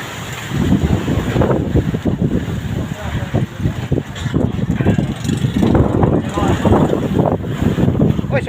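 Strong wind and choppy waves batter a small fishing boat at sea during the northeast monsoon, a loud, continuous rumbling wash with gusty buffeting against the microphone throughout.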